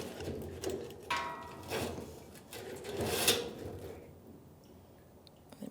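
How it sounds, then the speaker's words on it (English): Faint scraping, rubbing and plastic clunks come from an old fuel pump being lifted out of the rear fuel tank of a 1992-1996 Ford F-150, in a quiet garage. "I'm gonna lift this pump up, take it out of the tank, get past that pickup screen"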